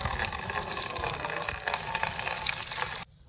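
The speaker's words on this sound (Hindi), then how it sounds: "ये पानी भी डाल दिया जाए" Water poured out in a steady splashing gush, close and fairly loud, running for about three seconds before cutting off abruptly.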